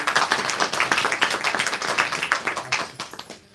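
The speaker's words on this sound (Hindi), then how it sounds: "तो ताली के द्वारा उनका भी स्वागत है" Audience clapping to welcome guests at a Brahma Kumaris centre's memorial day programme in Vishwas Nagar, a steady round of many hands clapping close by for a few seconds, then fading at the end.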